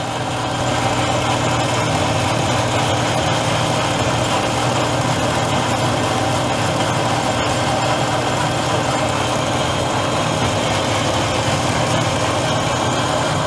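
A machine cutting scrap plumbing brass to make brake reservoirs drones with a loud, continuous mechanical hum and grinding whir, steady and close throughout with no pauses.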